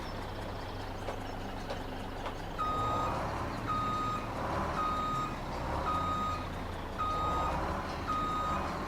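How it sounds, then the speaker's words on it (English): A truck in Farming Simulator 2017 parking with its reversing alarm sounding, evenly spaced beeps repeating over a low idling engine hum, steady and fairly close. "Let me just park this truck up."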